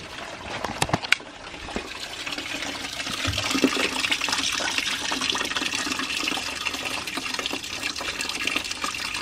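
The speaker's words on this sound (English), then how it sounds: "I'm going to remove the expansion tank cap. Hopefully it should drain a bit easier." Coolant drains from the cooling system of a BMW E90 3 Series once the expansion tank cap is off, a steady close gush of liquid pouring and splashing after a few sharp clicks at the start.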